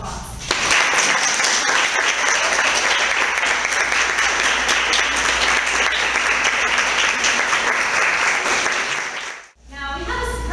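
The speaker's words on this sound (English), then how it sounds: "Everyone, give Mackenzie a round of applause." Sustained, loud applause fills a room at a Toastmasters club's annual officer induction dinner, a dense steady wash of clapping for about nine seconds before it abruptly drops away.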